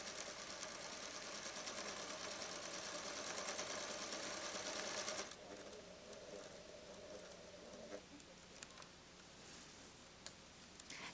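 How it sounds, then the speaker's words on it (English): A PFAFF creative 1475 CD sewing machine runs a steady stitching whir, fairly quiet and continuous, dropping to a lower, softer hum partway through with faint ticking, no talk. "Now I'll sew the changed version."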